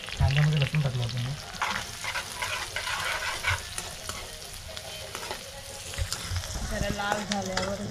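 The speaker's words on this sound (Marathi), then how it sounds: "कांद्यामध्ये लसूण टाकलं आपण" Garlic fries with onions in hot oil, giving a continuous crackling sizzle with stirring scrapes throughout. A voice speaks briefly at the start and again near the end.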